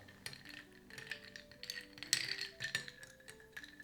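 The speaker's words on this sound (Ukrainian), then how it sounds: "Вирівнюємо лід." Ice cubes shifting and clinking against each other in a glass while a Negroni is finished, a run of close, light rattles and sharp clinks with one louder knock near the middle.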